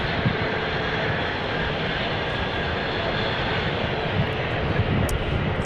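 A passenger airliner roars past at Phoenix airport, its broad jet-engine rumble filling the air at a steady, loud level throughout with no clear talking.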